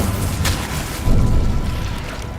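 A fire spell cast in the video game Hogwarts Legacy, a loud low whooshing boom that swells about midway through the burst, with a sustained roaring rumble and no talk.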